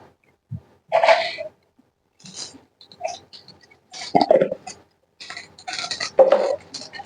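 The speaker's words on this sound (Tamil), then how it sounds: "கடுகு பொறிஞ்சு வருது" Mustard seeds splutter in hot oil: scattered crackles and pops burst irregularly from the pan, sizzling in short clusters with quiet gaps between them, close and fairly loud.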